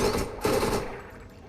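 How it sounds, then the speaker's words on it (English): Automatic gunfire rattles in Borderlands, a loud rapid burst from a repeater-type weapon firing at enemies, two dense bursts fading into a short echoing tail. "you can shoot enemies through the wall."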